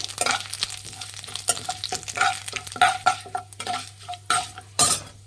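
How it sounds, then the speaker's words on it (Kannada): A spoon scrapes and clinks in a pan as urad dal fries in oil over medium flame, giving rhythmic stirring strokes over a light sizzle, close and fairly loud. "ಈಸ್ವರೆಗೂ ಮೀಡಿಯಂ ಫ್ಲೇಮಲ್ಲಿ ಇಟ್ಟು ಇದನ್ನು ಫ್ರೈ ಮಾಡಬೇಕಾಗುತ್ತೆ ಎಣ್ಣೆಯಲ್ಲಿ"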